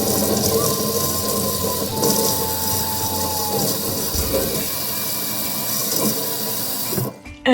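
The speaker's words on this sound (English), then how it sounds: "give it a nice rinse." Tap water runs steadily into a sink while sardines are rinsed under it, a continuous close hiss and splash that stops abruptly near the end.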